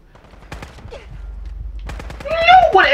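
Gunfire in the video game Fallout 4: sharp, rapid automatic shots crack in quick bursts, growing louder and denser toward the end, with a voice speaking in the background.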